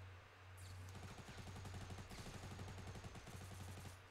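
Rapid, evenly spaced automatic gunfire from a video game, a continuous burst of fairly quiet shots with no talking.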